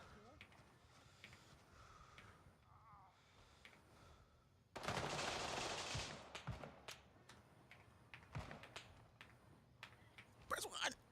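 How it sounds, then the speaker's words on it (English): Automatic gunfire in the shooter game Gray Zone Warfare, a loud sustained burst of shots followed by scattered sharp single cracks, heard over background game ambience with faint breathing. "He just dumped rounds."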